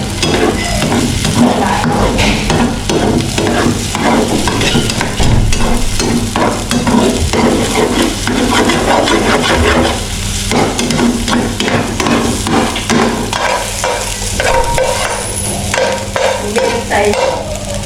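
Eggs frying in a hot pan on a stove, a loud continuous sizzle with busy, irregular scraping and clacking of a utensil stirring throughout, close and with no voices.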